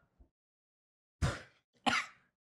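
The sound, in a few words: cough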